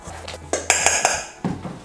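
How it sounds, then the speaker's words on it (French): A utensil stirs dry carrot cake ingredients, including ginger, salt and nutmeg, in a bowl, giving a few bright clinks and scraping taps against the bowl, close and clear, with no voices. "On mélange ça."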